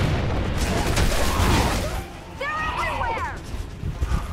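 Gears of War 3 gunfire on insane difficulty, a loud, dense spell of shots and blasts in the first couple of seconds, then quieter rumbling under a player's excited talk.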